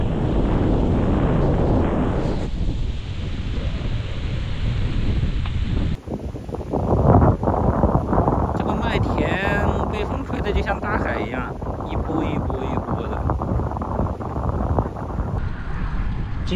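Strong wind sweeps across the open Gobi desert in Gansu, a loud continuous rushing roar on the microphone with shifting gusts, while someone talks over it.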